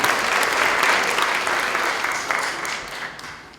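Audience applause for the judges and evening sponsors at the Morning Pointe Seniors Got Talent show in Chattanooga, a dense, steady wash of many hands clapping that holds strong and gradually tapers off toward the end.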